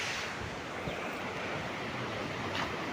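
Sea waves wash onto the shore in a steady, broad surf roar with gusts of wind noise on the microphone, sounding close and continuous with no talk over it.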